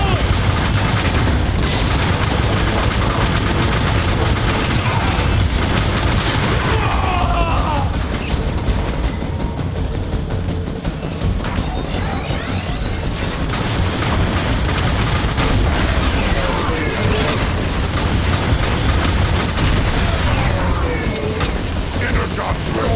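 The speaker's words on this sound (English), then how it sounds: "Grenade deployed!" Explosions and heavy mechanical combat noise fill a Transformers: War for Cybertron match, loud and continuous throughout with clattering, booming and metallic ratcheting, no clear gap between blasts.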